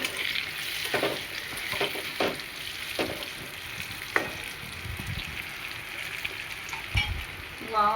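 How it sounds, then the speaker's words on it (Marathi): Steamed bitter gourd being stirred into chilli masala in a pan for stuffed karela, with a steady sizzle of frying and repeated scraping strokes of the spoon, close and moderately loud throughout. "आता ह्याला मिक्स करून घेते आणि आपले कारले वाफवलेले इथं सोडून देते।"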